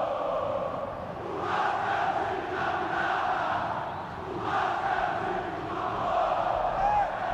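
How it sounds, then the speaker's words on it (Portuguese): A large crowd of Vasco football fans sings and cheers at the Maracanã stadium during a 2006 Brazilian league match against Flamengo. The chanting is loud and continuous, a massed roar that swells and dips in waves. "Aí o torcedor do Vasco cantando, vibrando, dizendo que o Vasco é o time da virada."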